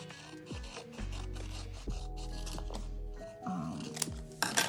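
Scissors snip away excess craft material, a handful of sharp cuts separated by rustling and rubbing of the material, close by and with no talking.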